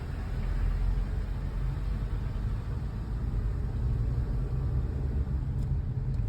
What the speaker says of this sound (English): Driving through the tunnel road.